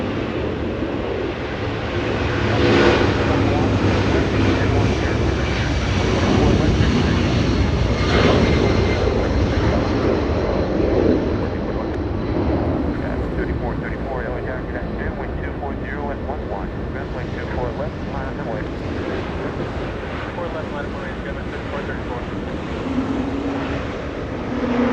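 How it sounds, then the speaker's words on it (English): A Delta airliner departing Los Angeles International Airport for Boston gives a steady, sustained roaring engine rumble throughout, heard from a distance with broadband noise that swells slightly and then holds. "we go to the departure, a Delta flying to Boston"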